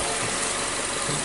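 A 2014 Nissan Sylphy with a cylinder misfire and loss of power idles after a restart, its engine giving a dense, steady, loud rumble that fills the brief moment, with no speech.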